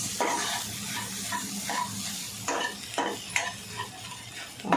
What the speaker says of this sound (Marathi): आपण चांगलं फ्राय करून घ्यायचं अंडा भुर्जी चांगली आणि बारीक करायची चमच्याने